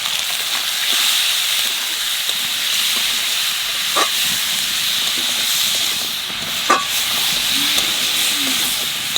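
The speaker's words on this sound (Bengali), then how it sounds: "টমেটো একটু ভাজিয়ে নিছি, আর জল দিয়ে দেবো।" Tomatoes sizzle in a pan while frying for a fish curry, a steady close hiss of oil with a few faint scrapes of stirring.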